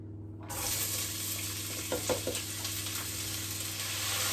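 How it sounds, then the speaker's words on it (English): Red onion, four cloves of chopped garlic and two chillies hit hot oil and sizzle loudly and steadily, with a few scraping stirs partway through and no talking. "hot oil, we're going to add some finely chopped red onion and 4 cloves of chopped garlic and 2 chillies"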